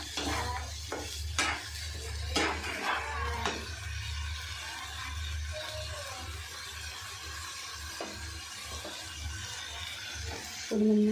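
Tomato paste frying in a pan while being stirred, with a few sharp scraping strokes early on over a steady, close sizzle that continues throughout.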